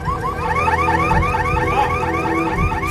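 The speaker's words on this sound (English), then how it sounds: "From the ruins comes a shrill symphony of car alarms." Shrill car alarms blare continuously among the ruins of a collapsed apartment block. Several warbling, sweeping tones overlap loudly and without a break, with no voices.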